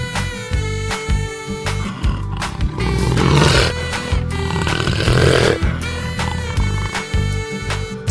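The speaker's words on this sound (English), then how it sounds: "tiger," A tiger gives two deep, rasping roars in the middle of the clip over steady background music.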